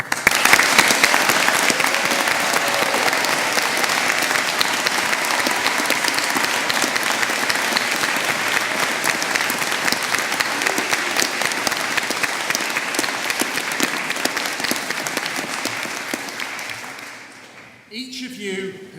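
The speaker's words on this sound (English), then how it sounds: "Each of you has received incredibly warm applause from your friends and supporters in the audience." Graduates at a Chelmsford graduation ceremony receive a long, loud, sustained round of applause from friends and supporters in the audience, dense and even throughout before tapering off at the very end.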